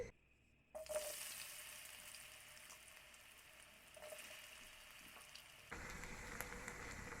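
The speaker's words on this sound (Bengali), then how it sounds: "মিডিয়াম ফ্লেমে আলুগুলো আমি ফ্রাই করে নিচ্ছি।" Potatoes frying in hot oil in a frying pan over a medium flame give a steady, close sizzle with a brief quiet start, then a louder stretch near the end.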